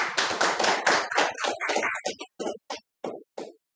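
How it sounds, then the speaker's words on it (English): Small club meeting audience claps for a member, a close burst of hand clapping that starts dense and thins out into a few scattered, separate claps before stopping. "applause for him"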